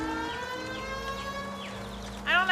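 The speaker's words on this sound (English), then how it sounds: "I don't like the siren, it's too loud" A wailing siren in the L.A. Noire video game, a loud steady rising-and-falling tone layered over game ambience, with a sharper swell right at the end.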